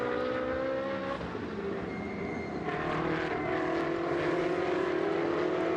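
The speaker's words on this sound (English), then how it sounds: "You can hear the brakes squeal in protest" High, sustained squeal of race car brakes over a loud engine roar, with the pitch sliding as the car slows under heavy braking before turn 6 at Jerez de la Frontera circuit.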